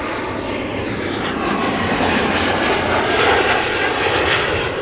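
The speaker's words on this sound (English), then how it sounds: "More KLM Embraers." A KLM Embraer 175 jet arriving at Amsterdam Schiphol on a flight from Lyon, its engine roar broad and steady, swelling slightly toward the middle and staying loud close by throughout.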